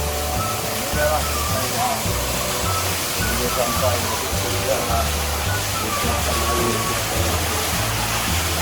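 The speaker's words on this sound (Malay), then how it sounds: "Ini air terjun asli ya, bukan bikin gitu." Natural waterfall from a spring, a steady loud rush of falling water filling the scene, with voices talking underneath and low rumbles throughout.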